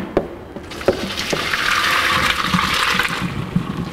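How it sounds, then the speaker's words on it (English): Boiled gluten-free linguine water poured from a pot into a strainer, a steady gushing splash building after a few clunks and lasting several seconds, close and fairly loud with no talking. "And we're going to bring our pot over and pour it into our strainer."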